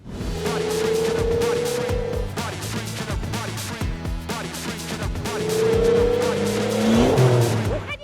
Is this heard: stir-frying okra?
no